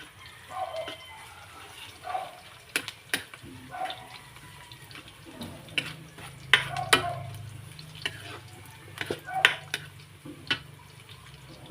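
Garlic frying in a pan for fried rice: a steady low sizzle broken by frequent clacking, scraping stirs of the utensil against the pan, heard up close with no talk.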